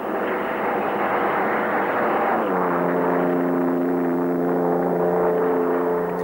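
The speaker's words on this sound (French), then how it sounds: "Il roule à un train d'enfer autour du circuit bétonné pendant 4 tours." Engine drone of a Speed Six racing car lapping a concrete circuit at high speed, a steady loud roar with a tone shifting as it passes, continuous throughout with no talk.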